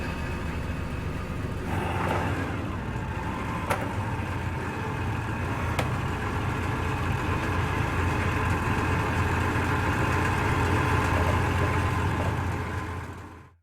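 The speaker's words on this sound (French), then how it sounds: "C'est un moteur, un bateau à moteur, un bateau à moteur." A motorboat engine runs steadily throughout, a continuous low rumble with a mid-range drone that stays near and even, with no speech over it.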